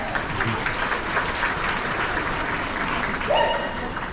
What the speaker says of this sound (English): Let's do a round of applause there.